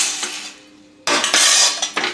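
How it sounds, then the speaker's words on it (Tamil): Roasted urad dal tipped from a pan onto another plate, clinking and scraping faintly at first, then a loud burst of rattling and metallic scraping as the grains slide over. "இப்போ இன்னொரு தட்டில் இதை மாற்றிடுறேன்"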